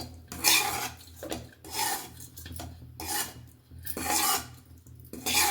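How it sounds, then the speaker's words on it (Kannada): Semolina (rava) roasting in a pan for jaggery sajjige, stirred with repeated rasping scrapes coming in steady waves, close and fairly quiet with no talk. "ಕಪ್ಪಾಗಬಾರ್ದು ರವೆ, ಆ ಥರ ಹುರ್ಕೋಬೇಕು"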